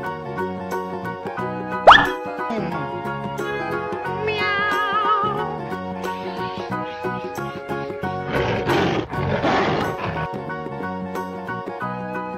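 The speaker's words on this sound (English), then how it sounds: "Tiger." A tiger roars in a couple of rough, growling bursts layered over bright, continuous background music in a children's wild-animal naming segment.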